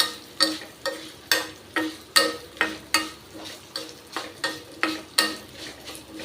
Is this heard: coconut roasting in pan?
yes